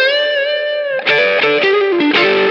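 An electric guitar plays through a TS-10 overdrive into a Bad Cat Hot Cat 45-watt amp with reverb: one held, driven chord rings out, then several quick picked notes follow, loud and close with no talking.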